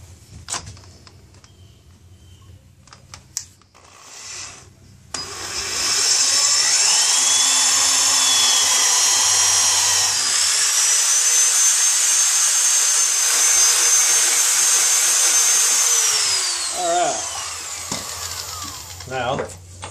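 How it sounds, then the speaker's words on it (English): A power drill with a metal bit whines at high pitch for about ten seconds while drilling through metal, rising and holding steady, with faint handling noises before and after. "go through with this drill bit to help make another mark on this one"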